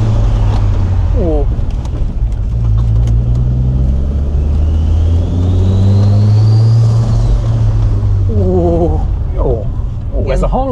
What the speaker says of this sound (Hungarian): Semmi nem szól úgy, mint az 5-hengeres motor.